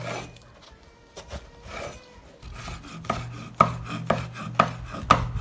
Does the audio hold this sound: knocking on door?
no